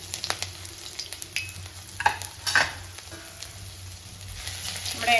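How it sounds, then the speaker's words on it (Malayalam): Crushed garlic and ginger frying in hot oil with popped mustard seeds for a Kerala-style egg roast, a soft, faint sizzle with occasional sharper crackles and stirring clicks. "ഇതിലേക്ക് ചതച്ച് വെച്ചിരിക്കുന്ന വെളുത്തുള്ളി ചേർത്ത് കൊടുക്കാം."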